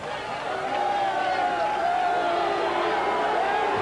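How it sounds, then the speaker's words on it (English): Crowd at a 1988 AVP beach volleyball double final in Hermosa, a dense, steady roar of cheering and voices filling the air throughout, rising slightly after the first second and staying loud. "The crowd's starting to really get into this final now."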